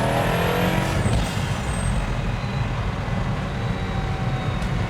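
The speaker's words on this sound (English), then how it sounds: "It's like a JDM like blow-off valve with a V12" Pagani Huayra V12 in full carbon fiber, heard from inside while riding along: a loud, steady engine roar with a sharp, hissing blow-off valve release near the start.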